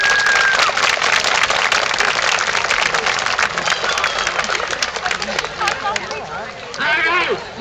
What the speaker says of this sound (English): Please give them a round of applause to show your thanks.